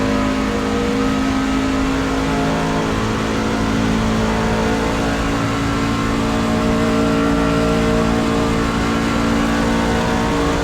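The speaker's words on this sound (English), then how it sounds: "hopefully you guys can hear me over this car because I know it is very loud" Loud race car engine in the sim racing game iRacing drones steadily with strong harmonic tones, revving and holding pitch continuously throughout with no pauses.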